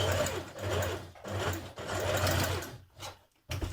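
A domestic sewing machine runs in close, whirring bursts as it stitches a wide-leg trouser seam off the fabric edge. Short pauses fall between the runs.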